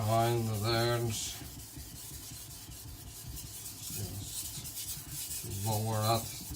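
A gyuto kitchen knife edge is worked on a sharpening stone, giving repeated scraping rubs in the middle, with brief talking at the start and end.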